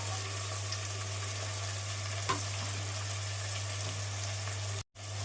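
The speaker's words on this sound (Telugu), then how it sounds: "ఉల్లిపాయలు పచ్చిమిరపకాయలు కరివేపాకు వేసేసుకున్నాం" Onions, green chillies and curry leaves fry in a pan, a soft, even sizzle that stays fairly faint over a steady low hum, with one small knock midway and a brief cut near the end.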